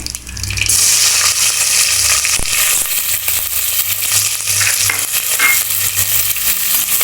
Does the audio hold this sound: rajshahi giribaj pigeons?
no